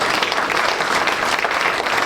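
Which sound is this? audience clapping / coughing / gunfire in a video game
audience clapping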